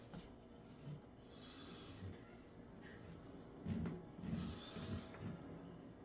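Wax rubbed onto a Kevlar sling, a soft dry scraping and rubbing in uneven strokes, close up and fairly quiet, with a few firmer passes near the end and no talking.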